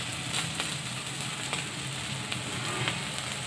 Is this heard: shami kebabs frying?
yes